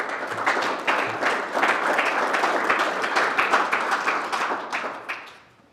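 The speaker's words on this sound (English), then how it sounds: "We'll get these folks a picture, and we will give them another round of applause." A small crowd at a bass fishing tournament's championship awards claps in a lively burst of applause with distinct individual claps, fading away toward the close.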